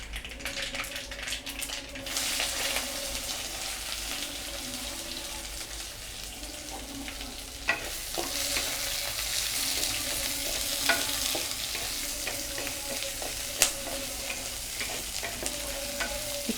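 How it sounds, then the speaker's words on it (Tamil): Onion, green chili, curry leaves and garlic sautéing in a pan for a bottle gourd and cowpea gravy, a steady close sizzle running throughout with occasional stirring clinks and scrapes; no one speaks. "இப்போ வந்து நம்ம வெங்காயம், பச்சை மிளகாய், கருவேப்பிலை, பூண்டு இதை வந்து நம்ம போட்டு வதக்கிக்கலாம்."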